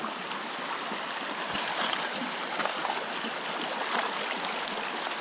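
Cold, low-running creek water flows and trickles steadily close by at a campsite, a soft continuous burble with no talking.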